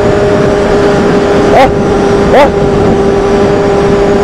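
A Kawasaki Z750 motorcycle downshifts and accelerates out of a curve, with steady engine drone and wind noise, two quick rising blips of revs, and a rider's brief exclamation over it.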